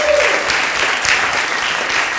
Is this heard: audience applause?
yes